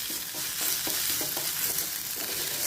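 Ginger and green chillies frying in a pan for a Kerala-style fish curry: a steady, close sizzle runs throughout, broken by rhythmic scraping strokes as the spatula stirs them around.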